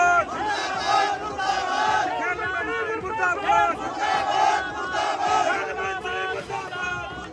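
A crowd of farmers protesting with black flags in front of the Yamunanagar mayor's car, loud rhythmic slogan chanting by many voices repeating over and over outdoors.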